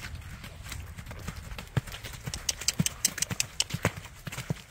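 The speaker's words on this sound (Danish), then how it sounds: "Rigtig fin galop, Sof." Rhythmic hoofbeats of a horse galloping nearby, steady clip-clop pulses growing sharper and louder toward the end, with faint voices in the background.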